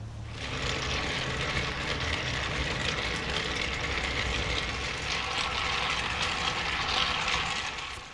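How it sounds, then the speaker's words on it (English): A hand-cranked wind-up gramophone motor drives a model carnival kiddie ride toy, giving a steady, dense mechanical whir with a constant rattling hum that holds evenly from start to finish. "on 15 cranks of the handle, this thing will run for about 2 minutes"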